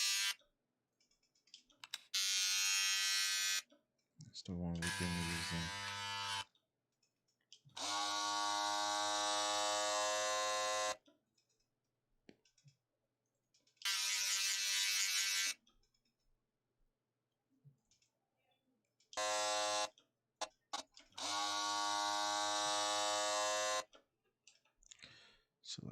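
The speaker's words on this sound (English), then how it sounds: "now we're gonna find a different shaver sound to use." An electric shaver buzzes in several loud bursts of a few seconds each, separated by pauses, with a brief spoken remark early on.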